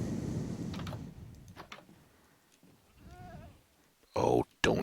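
A goat bleats in Minecraft, a short wavering cry in the middle, surrounded by game noise and someone talking, with sharp loud bursts near the end.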